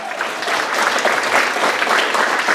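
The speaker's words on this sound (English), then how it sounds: "Let's give her a round of applause for that." Audience at a school board of education meeting applauding a state champion gymnast, a loud sustained burst of clapping from a roomful of people with no voices on top.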